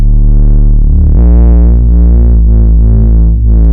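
A deep, smooth synthesizer bass plays sustained low notes that step between chord roots, steady and loud with no other sounds.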